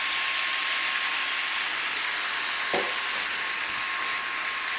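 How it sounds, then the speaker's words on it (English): Soy sauce hits vegetables in a hot pan during a veggie stir fry, giving a steady, broad sizzle from start to finish with one brief sharper hiss near the middle. "Now that's going to sizzle."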